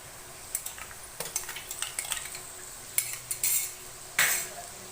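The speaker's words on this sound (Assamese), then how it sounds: "আদা নহৰুৰ কেঁচা গন্ধটো যোৱালৈকে ভাজি থাকিম" Ginger garlic paste frying in a pan while a metal utensil stirs it: a series of sharp scraping clinks and taps over a faint background sizzle, close and moderately loud, no talking.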